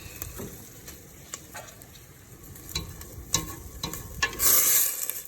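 Tomato paste cooking in a pan is stirred with repeated light scrapes and taps over a faint sizzle, and a louder hissing burst comes near the end.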